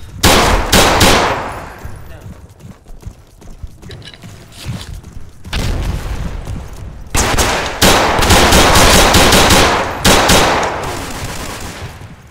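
Rapid bursts of automatic and single gunfire from a multiplayer shooter video game, loud and close, with quiet gaps between volleys and faint footsteps in the lulls.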